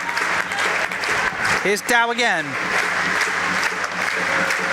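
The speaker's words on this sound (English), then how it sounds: "the Sky Dome gets to its feet to clap and cheer the Blaze home to victory" A packed ice hockey arena crowd at the Sky Dome claps and cheers for a Coventry Blaze victory over Dundee Stars, a dense, steady roar that briefly dips while a commentator's voice cuts in over it.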